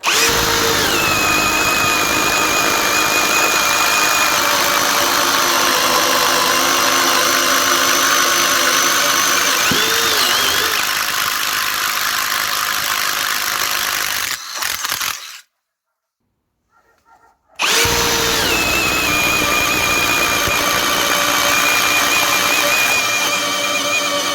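Parkside Performance cordless impact wrench running in second gear at 180 Nm, a loud continuous high-pitched motor whine held for about fifteen seconds, a brief silent stop, then spinning up again steadily; no speech.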